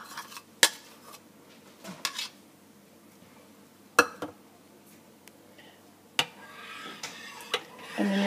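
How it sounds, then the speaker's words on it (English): Plain yogurt spooned from a cup into a crock pot, heard as sharp clinks and scrapes of a spoon against the dishes, spaced a few seconds apart and fairly close, with a quiet room between them. "So I have a cup of that that I'm going to attempt to put into this crock pot with one hand."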